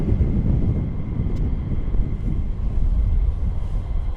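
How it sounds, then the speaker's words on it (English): Strong wind buffets and roars steadily at an RAF airbase during plane spotting, a loud continuous low rumble with no talking. "that wind is really blowing"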